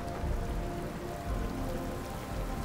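Rain falls steadily in the Starfield video game as a dense, even hiss of drops striking surfaces, with no other sounds standing out.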